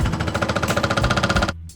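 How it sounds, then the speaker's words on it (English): An excavator-mounted rock hammer pounds rock while digging a hole, a loud, rapid, steady stream of hammer blows lasting about a second and a half before stopping abruptly. "I will go get another piece of equipment that has a rock hammer on it"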